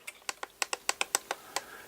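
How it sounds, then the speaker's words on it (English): A faulty button on a FrSky Taranis X9D radio transmitter clicking in a rapid, uneven run of about a dozen crisp, close, dry clicks, heard alone without any voice. "you normally press and hold, but you can hear this clicking"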